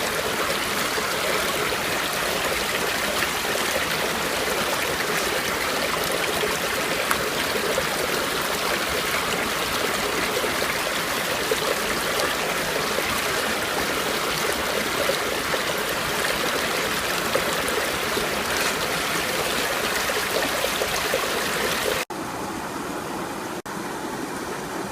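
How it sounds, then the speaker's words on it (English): Water rushes steadily through a gold panning sluice beside a stream in Tyndrum, Scotland, a loud continuous wash and trickle that drops slightly in level near the end. "that's another bucket filled up and just about to start sluicing"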